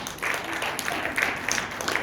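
A church congregation applauds for Jesus, a dense patter of many hands clapping at moderate distance, fairly quiet and steady throughout.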